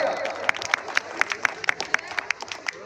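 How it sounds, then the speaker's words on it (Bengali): Audience clapping at a village cricket tournament ceremony in Kochiyamara Haldarpara, a crowd of scattered sharp claps ringing out fairly close with a rhythmic pulse, over a faint murmur of voices. "সবাই মিলে প্লিজ সবাই মিলে জোরদার তালিয়া"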